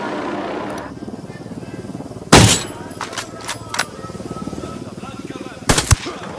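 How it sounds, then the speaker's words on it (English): Gunfire in the Ghost Recon Wildlands video game: a loud, close burst near the middle and another near the end, with a few sharper shots between them over a busy low rumble and background voices. "Opening fire on these shitheads."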